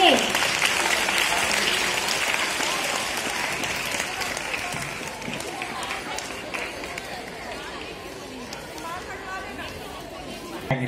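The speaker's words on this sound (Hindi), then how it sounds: "इनका भी स्वागत तालियों के साथ कीजिए।" Loud, sustained applause from an audience welcoming students onto the stage at a school prize event, mixed with crowd chatter and lasting the whole stretch while slowly easing off.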